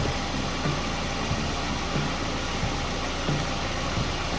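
A Hyundai Accent engine idles steadily during an automatic transmission fluid change, a constant close mechanical hum with faint regular ticking and no voices.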